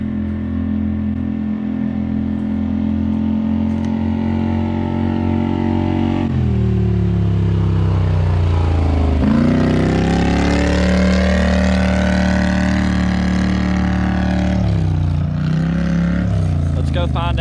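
A lifted Polaris Sportsman 850 four-wheeler engine drones loudly and close, rising and falling in pitch as the rider revs and shifts through changing speeds for the whole stretch.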